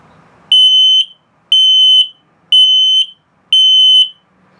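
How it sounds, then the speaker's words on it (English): An LP and carbon monoxide detector in a 2022 Ember Overland Express 171FB RV gives four loud, shrill beeps in test mode, each about half a second long and evenly spaced, with silence between them. "if it beeps very slowly, it's telling you your batteries are low. So it's actually a low battery alarm."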